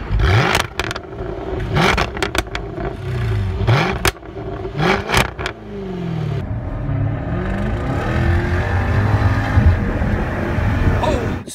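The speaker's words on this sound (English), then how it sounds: "The sounds that come out of this quad exhaust on both the SVR as well as the R, these produce the best sounds in the business" Jaguar F-Type SVR and R sports cars with quad exhaust tips, loud engine revving in sharp bursts and crackles, then a sustained roaring acceleration that rises and falls in pitch, close and strong throughout.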